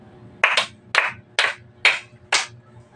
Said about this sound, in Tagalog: Maaari ba nating bigyan ng 5 palakpak ang unang grupo?